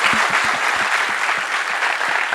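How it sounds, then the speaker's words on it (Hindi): A large crowd of students at a Kalusarai meet-up bursts into applause, dense rapid clapping from many hands that stays loud and even across the whole stretch. "एक बार सपोर्ट करने के लिए तालियां हो जाए।"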